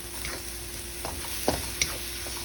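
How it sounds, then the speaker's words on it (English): Vegetables for shrimp fried rice sauté in a hot pan with a steady, soft sizzle, broken by a couple of sharp utensil clicks against the pan. "Make sure you get a nice saute on these vegetables."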